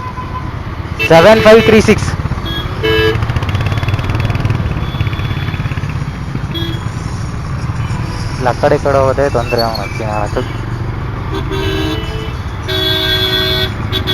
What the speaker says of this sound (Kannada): ನೋಡಿ, ಹೇಳ್ತಿದ್ದಂಗೆ ಟ್ರಾಫಿಕ್.